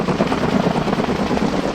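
A helicopter flies overhead on a Switzerland mountain trip, its steady whirring rotor drone loud and continuous throughout, with no talking.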